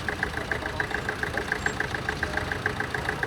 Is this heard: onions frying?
no